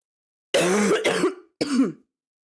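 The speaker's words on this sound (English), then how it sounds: "Excuse me, guys, I have a cough." A person coughs in a harsh, close burst, pauses briefly, then gives one more rough cough.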